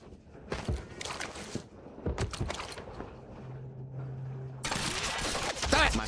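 A turret fires in Quantum Break with bursts of rapid gunfire, loud and close, broken by short gaps and a mechanical hum before a final sustained volley.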